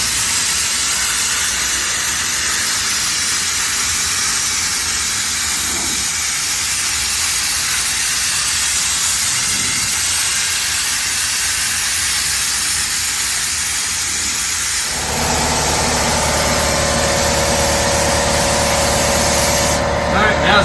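An air spray gun hisses steadily while spraying contact cement onto the roof of a 1968 Firebird during a vinyl top installation, a loud continuous rush whose tone shifts partway through, with no talking over it.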